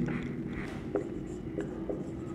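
Chalk or marker writing on a board during a Hindi-language class 12 physics lesson, with a few soft taps and strokes over a steady room hum and no clear speech.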